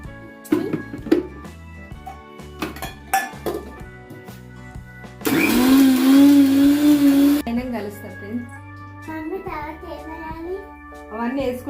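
A mixer grinder grinding soaked urad dal batter whirs loudly for about two seconds in the middle, framed by clinking dishes and a voice talking.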